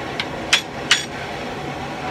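Hammer blows land on a handled hot cut chisel that is splitting open a forge-welded seam at the end of a Viking axe billet. Three sharp metallic strikes sound at uneven intervals, close and fairly loud, over low shop noise.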